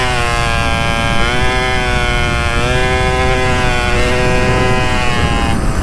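A modified moped engine buzzes loud and close while riding, a rough high-pitched two-stroke drone whose pitch climbs and dips with throttle changes, steady and alone with no talk.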